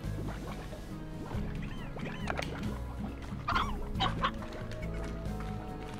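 Chickens cluck in a farm area of the video game Slime Rancher, several short clucks and squawks scattered over a low steady background drone, moderately loud, without speech.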